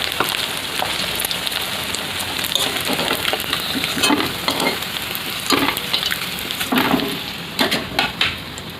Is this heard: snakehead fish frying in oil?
yes